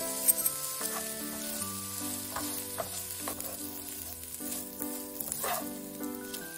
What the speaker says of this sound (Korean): 볶아줍니다.